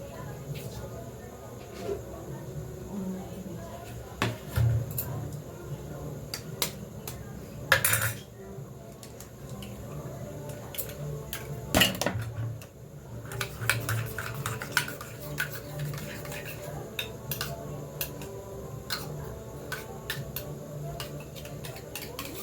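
A plate holding onion and a bowl being handled in a home kitchen during khichuri cooking, with scattered light clinks and taps of dishware at close range among quiet background noise and occasional louder knocks.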